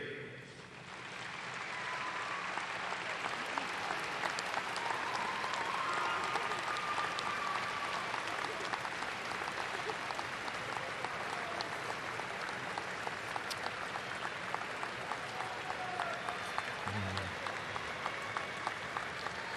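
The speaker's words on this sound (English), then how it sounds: "all of you turn and applaud those who've supported you so well during your educational journey" High school graduates applauding their families and supporters at a graduation ceremony, a large crowd's clapping that rises in the first two seconds and then holds as a dense, even roar for the rest of the clip.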